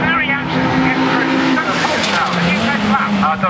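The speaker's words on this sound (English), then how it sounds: "picking up the aero, the slipstream from Chris Bray's car, very anxious to get through" MG Trophy race cars lapping Oulton Park, engines roaring loud and close throughout, one car slipstreaming tightly behind another, with a commentator talking over the steady racing noise.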